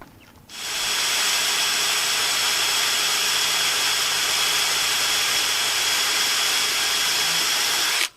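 A power drill boring a small starter hole for a screw in cinder block entrance steps, a steady loud whirring grind that starts abruptly and runs continuously for about seven seconds before cutting off.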